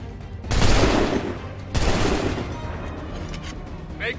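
Musket volleys ring out in the Assassin's Creed 3 video game: two loud, booming fusillades about a second apart, each ragged with overlapping shots, then a long rumbling tail with faint distant pops.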